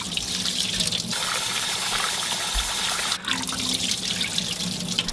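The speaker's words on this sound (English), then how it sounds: "So I'm just going to do about 4 rice cups and place it into a bowl. And rinse it a few times." Long grain sticky rice being rinsed with water in a bowl: steady running tap water and splashing, continuous and close, with no talking.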